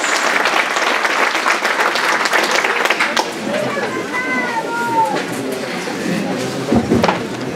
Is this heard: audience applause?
yes